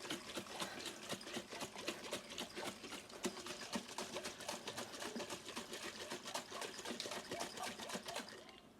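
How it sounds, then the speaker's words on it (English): A capped container holding Epsom salt solution being shaken hard so the particles dissolve, giving a steady, fast rattling and sloshing rhythm that runs close and loud for about nine seconds before stopping. "Actually, probably better to stir it, to shake it."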